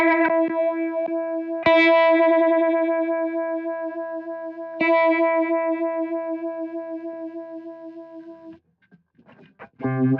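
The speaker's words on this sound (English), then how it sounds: "we have what's known as a vibe, which is mimicking the Univibe" Electric guitar through a Univibe-style vibe modulation effect, a few sustained chords that ring and slowly decay with a gentle pulsing wobble, the last fading before a short muted strum.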